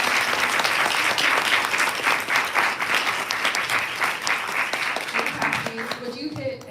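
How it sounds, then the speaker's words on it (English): An audience applauds speakers at a TV animation creative mixer, a dense, sustained wash of clapping from a room full of people that gradually thins out near the end. "Everyone, please give our speakers a big round of applause."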